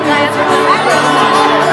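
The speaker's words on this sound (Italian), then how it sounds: "fatemi un applauso" Crowd at the Sagra del Covatello village food festival in Scandale, Calabria, cheering and whooping loudly and steadily throughout, with voices and babble mixed into the noise.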